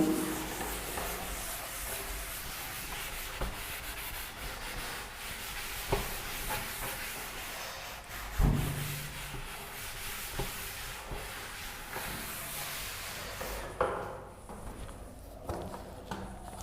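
Scrubbing of an eraser across a board during a maths lesson, a steady, fairly faint rasping rub that runs throughout with a few brief louder knocks.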